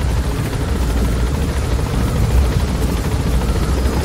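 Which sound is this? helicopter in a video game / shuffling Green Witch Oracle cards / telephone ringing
helicopter in a video game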